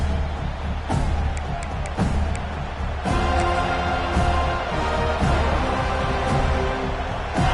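Steady roar of a stadium crowd at a Florida State Seminoles college football game around kickoff, loud and continuous with cheers swelling at intervals and no talk over it.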